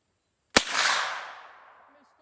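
A single sharp shot from a semi-automatic gun at a steel target hung on T-posts, one loud crack followed by a long fading outdoor echo.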